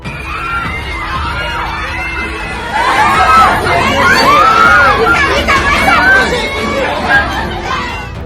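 Residents scream and shout hysterically as a sacrificial cow rampages just before slaughter, a loud, agitated crowd of overlapping cries and chatter that swells midway and stays intense to the end.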